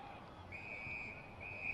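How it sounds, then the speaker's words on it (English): An umpire's whistle sounds at a VFL Australian football match between North Melbourne and the Northern Bullants, a thin steady tone heard faintly over distant crowd noise, held long with a brief break. "Got a whistle here."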